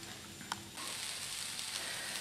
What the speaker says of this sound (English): I'm going to roast these until they're nice and pretty charred on all sides